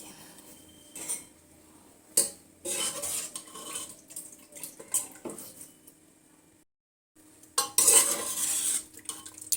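A pressure cooker of mutton yakhni for tahri is opened with metallic clanks and clatter of the lid and pot, a short pause, then a sharp burst of hissing steam and rattling near the end.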